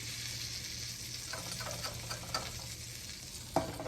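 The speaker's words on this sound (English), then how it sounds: "you can hear it sizzling right now" Skillet bread sizzles steadily in a skillet, a soft constant crackle with a few faint scrapes of stirring and one sharper clink near the end.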